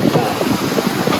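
Ocean waves and wind while sailing on huge rolling seas, a loud, close rushing wash with wind buffeting the microphone, continuous and textured, with no voices.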